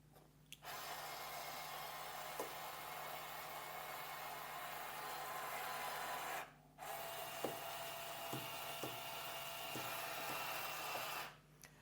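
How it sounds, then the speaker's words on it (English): An 84 RPM motor drives a linear slide with no load, giving a steady electric whine and hum that runs for several seconds, stops briefly, then resumes with faint clicks before cutting out. "Okay, so we have the 84 RPM motor set up here. Let's go ahead and get a baseline with no load."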